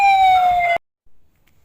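An ambulance siren sounds with the Doppler effect as the vehicle moves away. It holds a loud, steady wailing tone that cuts off abruptly, then a faint trailing sound.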